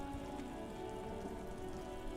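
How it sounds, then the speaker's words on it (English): Steady rain falls in the video game Disco Elysium, a soft, constant patter and hiss on surfaces, fairly quiet and uninterrupted, with no voices. "It's raining again."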